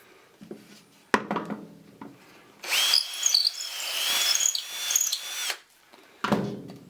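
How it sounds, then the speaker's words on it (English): A power drill with a 5/16 bit bores through wood from the back side of a small toy part, a sustained whining run of about three seconds framed by clicks and handling noise. "I'll take a 5/16 drill bit here, and I'll get it from the other side so I don't have tear out"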